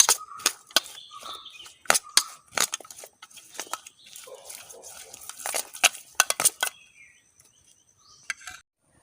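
A spoon tosses a tomato onion salad with cilantro in a bowl, giving close, irregular clinks and wet squelches in scattered bursts with no talk, then a quieter tail.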